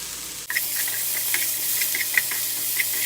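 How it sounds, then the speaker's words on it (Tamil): Chopped onion with salt sautéing in a deep frying pan while making chutney, a steady hiss and sizzle with faint crackles and occasional small pops, continuous and close after a brief pause at the start. "இப்போ இதே வடை சட்டியில் தக்காளி வெங்காயத்தையும் வதக்கி விட்டுறலாங்க"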